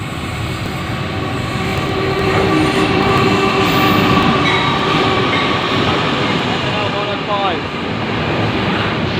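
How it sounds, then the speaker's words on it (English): An Endeavour passenger train arrives at a station platform while a freight train passes on the next platform, a loud, steady rumble of wheels and engines throughout with occasional squeals. "Here we have a Endeavour arriving to platform 1. A freight train and our 118 passing by platform 2."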